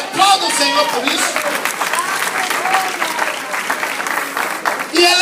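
A church congregation applauds loudly and continuously, with voices and cheers mixed into the dense clapping throughout.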